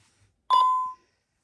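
A single sharp electronic beep, about half a second long, from a Honeywell Vista security keypad as a fire panic alarm is cleared. It sounds close and stands alone against near silence.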